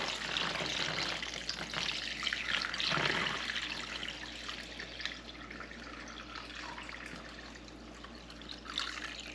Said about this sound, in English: And then just pour it in the chicken.